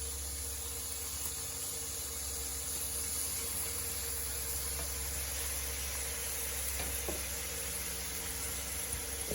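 Conch meat sizzles steadily in a hot pan for lambi cooked with potatoes and garden vegetables, a continuous close frying hiss with no talk over it.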